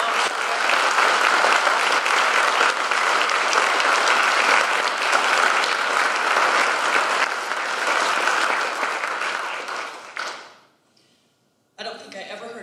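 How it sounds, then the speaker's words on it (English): At a Project Search graduation ceremony, an audience applauds the graduates with loud, sustained clapping that stays full for about ten seconds, then fades out to silence before a voice begins speaking. "they deserve a round of applause"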